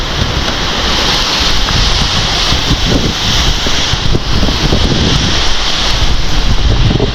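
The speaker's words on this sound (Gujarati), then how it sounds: "જોરદાર વાવાઝોડું આવે એવું લાગે છે" A strong storm wind roars in a continuous loud rush, buffeting hard against the microphone with a deep rumble underneath, and no voices are heard.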